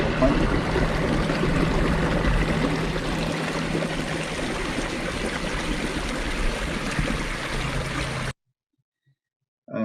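Stream water flowing down an auwai, a small diverted water channel in Hawaii, with a steady, full rushing and gurgling that continues loud and unbroken before cutting off abruptly near the end.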